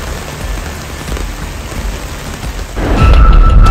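Heavy rain and strong wind pour down as an overflowing river floods Bataan, Philippines, above knee-deep, a dense steady roar that swells louder and deeper near the end, with no talk.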